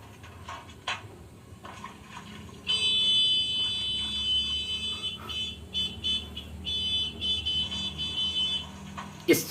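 Car horns honking in street traffic, with several sustained tonal blasts overlapping and stopping and starting against a background rumble of traffic, with no voices.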